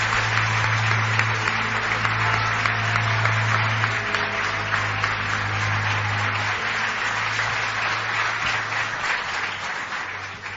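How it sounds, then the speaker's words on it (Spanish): A studio audience applauds as a guest arrives for a radio-style podcast recording, a full sustained round of clapping with a low hum beneath, tapering slightly near the end. "pido un aplauso para Jesús, que ya se acerca por aquí."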